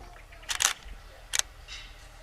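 A single-lens reflex camera fires its shutter at 1/100 second and f5.6, giving a crisp double click followed by a second, softer click a moment later, close and clear in a quiet room.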